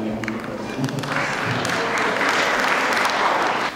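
An audience applauds folk dancers performing Székely dances, the clapping swelling quickly from a few hands into a full, sustained round.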